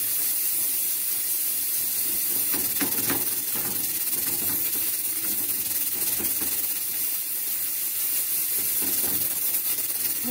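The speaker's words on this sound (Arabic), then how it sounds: "غادي ندير عليها حرشه لوطه صافي، وغادي نحرش السميده" Semolina dry-toasting in a frying pan: a steady, close hiss and gritty rustle with occasional scraping ticks throughout.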